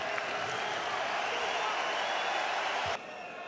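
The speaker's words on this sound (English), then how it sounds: "Crowd enjoying it." Broad crowd noise and clapping from spectators at a professional boxing match in a large arena, a sustained roar at moderate distance that drops off abruptly near the end.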